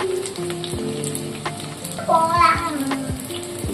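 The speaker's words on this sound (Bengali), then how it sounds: "একবার ফ্লিপ করে দিয়ে উল্টো পিঠটা ভেজে নেওয়া" Pakoras deep-frying in hot oil after being flipped give a dense, crackling bubble that swells louder midway, with faint tonal sounds in the background.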